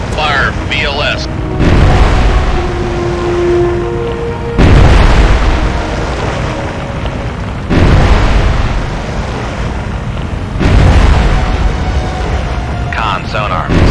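Vertical launch system missiles fired from a ship in the Cold Waters naval combat game, four loud roaring launch blasts spaced a few seconds apart, each a broad booming whoosh, with radio-style voice callouts in between.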